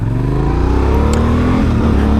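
A Yamaha Ténéré 700 adventure motorcycle accelerates hard on a test track, its engine note climbing steadily and loudly with a gear change partway through, heard up close and alone.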